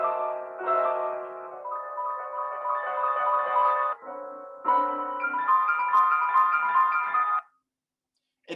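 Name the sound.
piano playing a transcribed cardinal bird song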